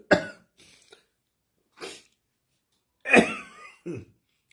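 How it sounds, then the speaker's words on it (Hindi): A person coughs several times, close to the mic: a sharp cough, a few softer ones, then a harsher double cough, separated by silence. "बीच बीच में मुझे खांसी उठती है"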